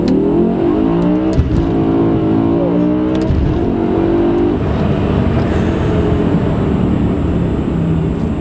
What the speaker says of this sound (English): listen to these shifts, how fast they go